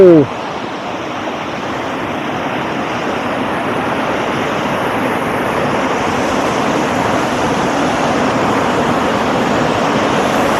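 A waterfall in Himachal roars in a loud, constant rush of falling water that fills the whole clip, close by and steady, with no talking.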